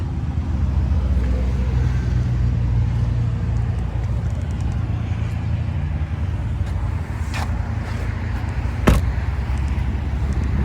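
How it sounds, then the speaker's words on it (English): Steady low engine rumble from an idling 2021 Toyota Supra GR with a 2-liter turbo engine, continuous throughout, with a sharp click near the end. "just a good sounding rumble from this 2-liter"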